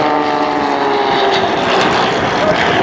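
An Extreme XA41 composite aerobatic plane with a Lycoming 580 engine passes at an airshow, a loud, close propeller drone with a buzzing harmonic tone held throughout.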